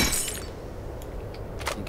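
Glass shattering in the game S.T.A.L.K.E.R., built with the X-Ray SDK physics engine, a sharp crash at the start followed by a few scattered tinkling fragments over a low background rumble.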